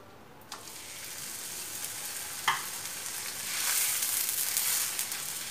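A thick Oroti-style roti sizzles in a little spread oil on a well-heated stone griddle, a faint, steady frying hiss broken by a couple of soft clicks and a swelling crackle near the end.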